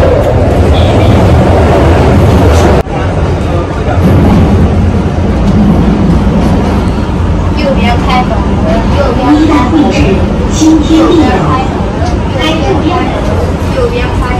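A train pulls into a station with steady rumbling and rolling noise, a sharp clunk early on, then squealing brake tones as it slows, all fairly loud and close under the station's ambient clatter.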